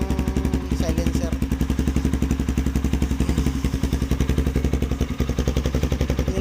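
A Kawasaki Z200X motorcycle idling with its silencer removed, a loud, close, rapid, steady exhaust putter with hard pulses that keeps going the whole time, no voices.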